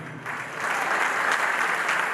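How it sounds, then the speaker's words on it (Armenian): Wedding guests clapping for the couple, the applause starting lightly and swelling into a steady, full round that carries on without voices. "Ծափարենք մեր զույգին։"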